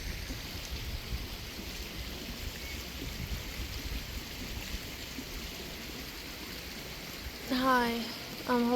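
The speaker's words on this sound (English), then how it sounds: "There is a river." A river flows with a steady broadband rush of water throughout, fairly close and unbroken, and a voice briefly cuts in near the end.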